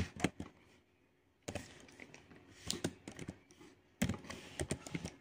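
C code is typed on a computer keyboard in quick clattering bursts of keystrokes, broken by short pauses, close and fairly quiet.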